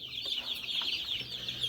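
Hens and newly hatched chicks clucking and peeping in a poultry shed after escaping their enclosure, a busy overlapping chorus of chirps with a machine hum in the background.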